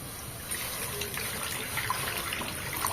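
Water pours into a kadai (wok) for cooking rice, a steady soft trickling stream running evenly for a few seconds at moderate to low volume.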